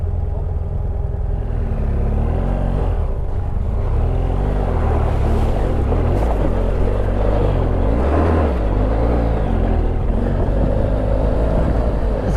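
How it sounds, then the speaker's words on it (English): A BMW GS motorcycle engine pulls steadily uphill on an off-road training course, a loud, continuous low rumble with little revving, close by throughout. "The GS's, man, that torque it's got can move you up the hills without having to rev so much."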